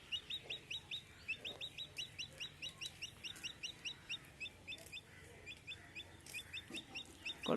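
A chick chirps and clucks in quick repeated bursts, close and fairly faint, with a few brief pauses in an otherwise steady run of calls.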